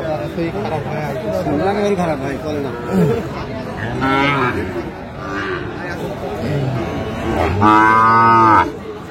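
Sahiwal bull calf at a cattle market, several drawn-out moos rising and falling, one loud and close near the end, with people talking and general market chatter all around.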